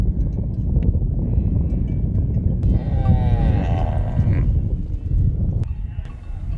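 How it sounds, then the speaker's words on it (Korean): Maasai herds of cattle, sheep and donkeys gather at a watering place near Magadi, Kenya, lowing moos rising over a dense, steady din of the animals, with a narrator's voice running underneath. "소와 양, 당나귀 등 종류별로 무리를 지어 순서대로 대기 중입니다."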